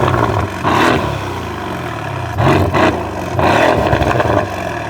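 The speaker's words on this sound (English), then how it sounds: "This is what it sounded like with the Valvetronic catback." A Mercedes C63S fitted with a Valvetronic catback exhaust is revved three times in short bursts over a rumbling idle, its engine note loud and close with a slightly raspier edge.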